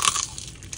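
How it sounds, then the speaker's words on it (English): A single sharp crunch of a bite into crispy chicharron pork skin from Cardenas, a brief brittle crackle right up close followed by faint chewing. "The crunch on the skin."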